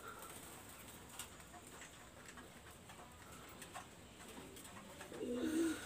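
Red-eyed pigeons in a loft of Pakistani high flyer breeds give faint, soft coos against a quiet hiss, with one clearer low coo near the end and no talking.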